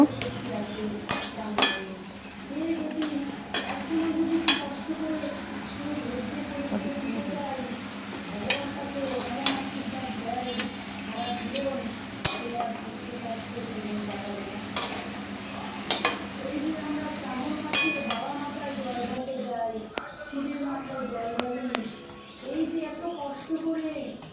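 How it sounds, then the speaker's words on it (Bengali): A spoon stirs and scrapes potato filling seasoned with chaat masala in a frying pan for vegetable paratha, giving a steady soft sizzle with repeated clinks against the pan and a voice talking now and then. "দিয়ে কিছুক্ষণ নাড়িয়ে নেব।"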